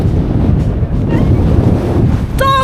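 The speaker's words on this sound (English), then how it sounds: "I hope this can hear me because it's so windy." Strong gale-force wind buffeting a microphone outdoors on a hike, a loud continuous roaring rumble with gusty fluctuations, and a brief whistle-like tone at the end.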